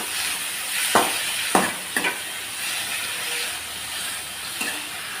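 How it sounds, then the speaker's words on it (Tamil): Garlic and tomato sautéing in a pan for a potato masala curry, a steady loud sizzle broken by a few sharp scrapes of a spoon stirring, close up with no talk. "ஒரு பெரிய சைஸ் தக்காளி கட் பண்ணி வச்சுருக்கேன் அதையும் சேர்த்துக்கலாம் இது எல்லாத்தையும் சேர்த்து நல்லா வதக்கி விட்டுக்கலாம்"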